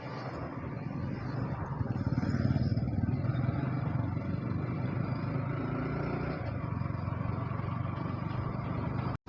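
Motorcycle heard from the rider's position on a road ride near Tezpur, a steady, moderately quiet engine hum mixed with wind rush that continues for the whole stretch and cuts off abruptly at the end.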